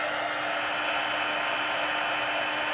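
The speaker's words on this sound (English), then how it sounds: "now I'm using our Stampin' Up! Heat tool, and I'm using the heat setting, the emboss setting, which is setting 2." Stampin' Up! heat tool running on its emboss setting, a steady loud blowing whir close up, continuous and alone with no talk.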